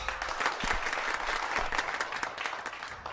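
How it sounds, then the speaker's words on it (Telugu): A crowd claps in a comedy film scene, dense continuous applause with individual hand slaps standing out, moderately loud and steady from start to finish. "వాళ్ళందరూ చప్పట్లు కొడుతున్నారు"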